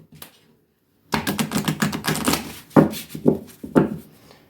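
Large oracle cards shuffled by hand, opening with a faint touch and a pause, then a loud burst of rapid riffling clicks followed by several separate slapping shuffles, close up.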